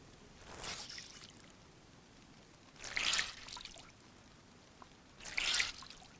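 Wet gloves being wrung out in the DayZ video game, three separate short watery trickling squeezes spaced a couple of seconds apart, soft and close with quiet gaps between.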